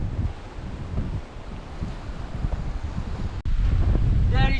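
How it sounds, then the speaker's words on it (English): Strong wind buffets the microphone on a tropical beach, a loud continuous roar with gusting rumble and surf-like wash throughout, briefly cutting out near the end. "this wind is hectic"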